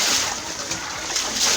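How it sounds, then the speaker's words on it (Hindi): Water is flung and splashes loudly in a flooded railway colony street, a continuous broad wash of sloshing and spattering close by, with voices faintly mixed in. "फेंक फेंक पानी फेंक"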